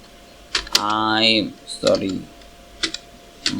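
A few sharp keystrokes on a computer keyboard while typing a Python string, scattered clicks spaced apart, close by, with someone speaking in between.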